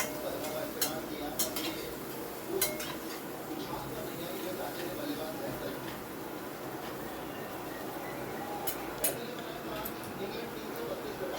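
Diced eggplant is stirred in a pan on a gas stove while making a simple home dinner, with a steady low rustle and occasional sharp clicks of a utensil against the pan throughout.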